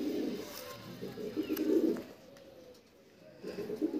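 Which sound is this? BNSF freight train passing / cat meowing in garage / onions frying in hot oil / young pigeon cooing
young pigeon cooing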